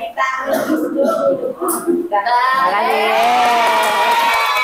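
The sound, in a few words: audience applause and cheering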